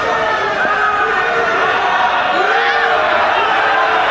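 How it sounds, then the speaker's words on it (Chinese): A live crowd at a kickboxing fight jeers and roars in a dense, continuous wash of voices that stays loud from start to finish. "现场观众不停的在起哄啊"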